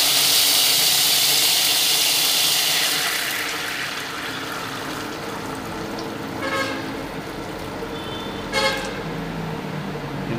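A steady rush of hot water pours loudly into a pan for pancit bato noodles for a few seconds, then settles into a softer simmering hiss with a couple of faint clinks.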